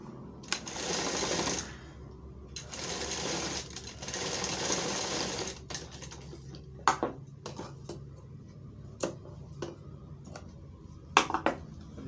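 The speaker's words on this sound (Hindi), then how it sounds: "यहाँ पे एक सिलाई मारेंगे।" A sewing machine stitches a sherwani in two sustained runs of rapid mechanical whirring, close by, followed by scattered clicks and handling taps as the fabric is adjusted.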